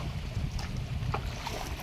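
Water laps against a small wooden boat rowed on a Sundarbans river, with a few soft oar strokes under steady wind buffeting the microphone.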